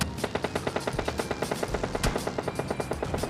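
Automatic gunfire in the PUBG video game rattles in a rapid, even burst of shots that holds steady for several seconds, with a louder crack partway through.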